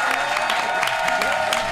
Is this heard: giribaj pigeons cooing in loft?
no